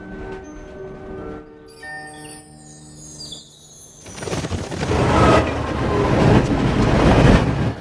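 A train in the cartoon My Little Pony: Friendship Is Magic rumbles and clatters along the tracks, growing louder and denser as it rolls on, following softer tonal sounds at the start.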